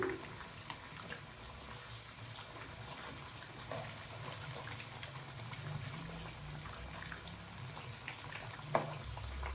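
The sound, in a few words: fish pakoras frying in oil, stirred with spoon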